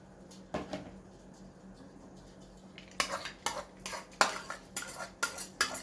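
Plantain going into a pot for porridge, with clinks of utensils against the pot and a run of sharp knocks and scrapes in the latter half, close, no talk.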